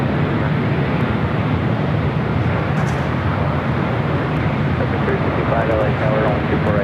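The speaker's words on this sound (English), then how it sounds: "This flight coming in from Luxembourg, it's a 747-400 freighter." A Cargolux Boeing 747-400 freighter arriving from Luxembourg and landing at LAX, heard as a continuous broad engine roar, loud and steady throughout, with a voice faintly under it.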